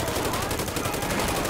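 Rapid automatic gunfire from weapons in GTA 5, a dense continuous burst of loud shots with no pauses.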